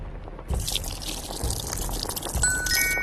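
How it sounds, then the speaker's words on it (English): Boiling water pours steadily into a teacup of oolong tea powder, a continuous close splashing trickle that starts abruptly and runs on without pause. "Pour boiling water over the tea powder to fill the cup"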